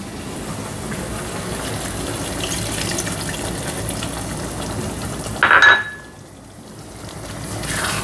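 Leftover water from rinsing a mixer jar poured into a pot of mutton pulao, with a steady trickle and gush and a brief splashing burst near the end before it trails off.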